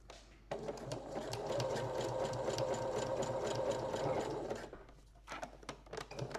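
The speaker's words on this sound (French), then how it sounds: "je vais venir piquer ce petit rabat" A domestic sewing machine stitches down a small flap on a garment strap in one loud, steady, close run of rapid needle clatter. It stops, then gives a few short bursts at the end.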